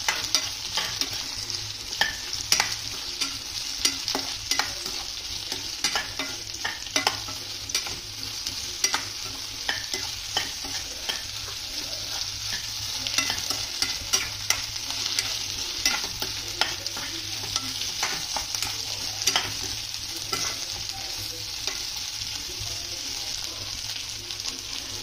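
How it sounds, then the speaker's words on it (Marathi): Sliced okra frying in a pan for a home-style masala bhindi, a steady close sizzle broken by frequent scraping stirs that keep a loose, uneven rhythm throughout, with no talking. "आणि नॉर्मल फ्राय आपल्याला करून घ्यायचा आहे."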